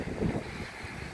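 Wind gusts across an anchored sailboat, a continuous low, rushing roar with a brief swell in strength, buffeting steadily with no voices.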